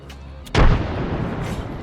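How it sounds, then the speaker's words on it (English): A grenade goes off in a battle-royale shooter game with one sudden heavy boom, followed by a rumbling tail that fades slowly, with a short voice just before the blast. "Grenade out!"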